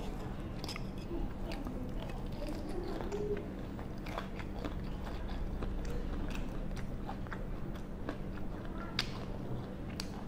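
Someone bites and chews Thai chive dumplings (kui chai) close up, a quiet, irregular series of soft crunches and moist smacking bites over faint background noise.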